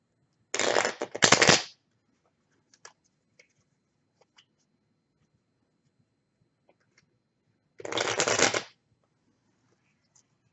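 Tarot cards shuffled in two separate bursts, one early and one near the end, crisp riffling and flutter close by with quiet pauses between and no talking.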